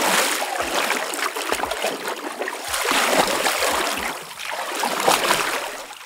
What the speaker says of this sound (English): Swimming movements.